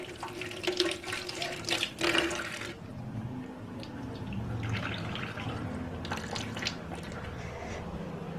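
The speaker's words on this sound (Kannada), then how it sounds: "ಹಾಫ್ ಗ್ಲಾಸಷ್ಟು ನೀರು ಹಾಕ್ಬಿಟ್ಟು ಬೇಯಿಸ್ಬೇಕು." Water poured from a glass into a cooking pot of spiced sprouted-gram curry, a close splashing pour in the opening seconds, then quieter trickling and bubbling.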